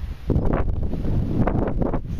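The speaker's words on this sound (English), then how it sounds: "it's windy here" Gusty wind buffeting the microphone in a front yard, a rough low roar that swells and fades in short surges.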